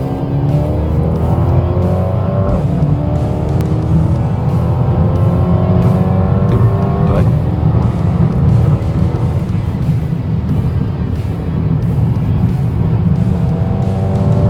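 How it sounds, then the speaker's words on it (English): A 2021 Mercedes A35 AMG engine roars steadily at full throttle in third gear, the pitch climbing through the range with a raspy exhaust drone, loud and continuous. "let's rev the car a little and show you guys how the exhaust note sounds"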